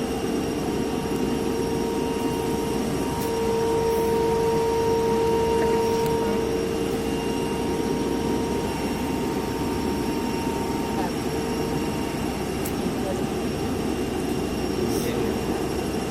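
A DC motor runs at 1500 rpm, driving a shunt generator on a lab test bench. It gives a steady, close mechanical hum and whine with a constant tone throughout and a few faint clicks.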